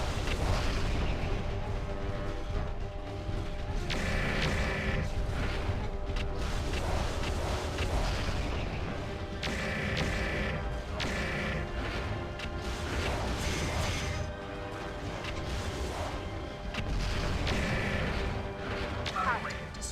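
A mech in MechWarrior 4 launches volleys of missiles, repeated heavy booms and crashing blasts rolling over a dense background of engine rumble and music.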